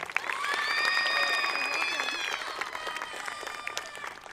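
A crowd claps and cheers loudly and steadily for students at a school promotion ceremony, with scattered shouts rising over the continuous applause.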